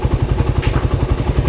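Motorcycle engine running close by at a town fiesta, a steady low throbbing rumble with rattling clatter throughout the short moment.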